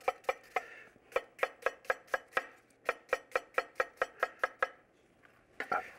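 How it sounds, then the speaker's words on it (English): A knife coarsely chopping onion on a board, a quick run of sharp, evenly paced close knocks, a pause, then another steady series and a final few chops. "Then some chopped onion. And again, it can be very coarsely done as well."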